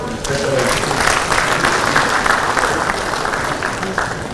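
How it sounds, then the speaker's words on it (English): Another round of applause rises at a National Judicial Institute capacity-building event, a dense, even wash of audience clapping that holds steady throughout, with faint voices underneath. "Please, another round of applause."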